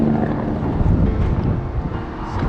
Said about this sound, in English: This wind's really picking up